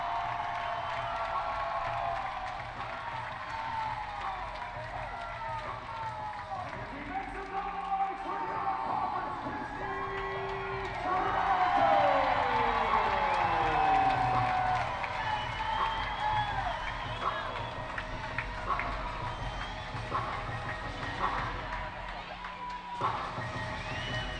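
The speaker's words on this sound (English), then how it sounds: "Listen to the crowd." Crowd at an indoor arena football game between the Amarillo Venom and Corpus Christi Tritons swells into cheering after a two-point conversion, a steady roar with shouts rising louder midway, while a whistle-like tone and announcer-style talk sit underneath.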